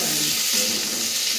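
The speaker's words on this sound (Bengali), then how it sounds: "এই সবজিগুলোকে একটু ভেজে নেবো" Winter vegetables with cauliflower frying in a pan give a steady close sizzle with a soft stirring movement partway through, and nobody talks.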